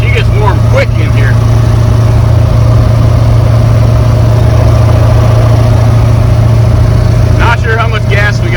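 An LS-swapped 1982 G20 van drones along on the road with a steady low engine hum under loud cabin noise, while a voice talks briefly at the start and again near the end.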